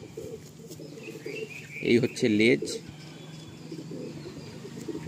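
Pigeons coo in a home loft, a brief close burst of throaty cooing midway while someone talks over the rest.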